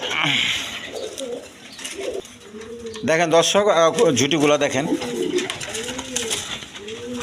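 Bombay pigeons with crests, red-coloured birds at a pigeon market, coo softly in the background while someone speaks loudly over them for most of the time.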